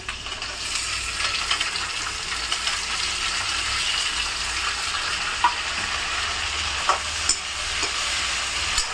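Potatoes and tomatoes sauté in a pan, a steady close sizzle with light spatula scrapes and small pops scattered across nine seconds, no voices.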